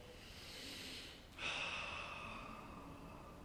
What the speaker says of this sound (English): Now inhale.